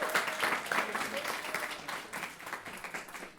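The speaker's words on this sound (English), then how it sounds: "Give a huge round of applause from Community Music Center of Boston, Carlo" Audience applause at an internship program's final celebration, a moderately distant crowd clapping steadily for a few seconds, tapering slightly toward the end.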